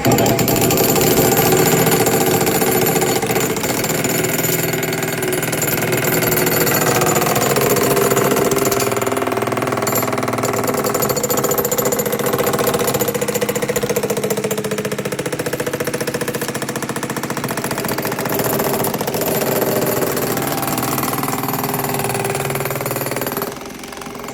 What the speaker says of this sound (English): go side by side real quick with the Makita Milwaukee jackhammer